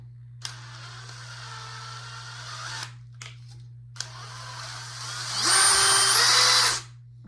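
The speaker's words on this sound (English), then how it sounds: "So now I'm going to drill my hole." A power drill with a slightly undersized bit bores a pilot hole in a proton pack prop, with a steady whirring run, a brief stop and restart, then a louder, higher straining burst near the end.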